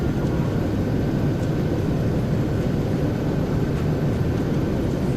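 An Airbus A330-300 rolls out on landing in the Prepar3D flight simulator with thrust reversers deployed, making a loud, continuous low engine roar that holds steady throughout without speech.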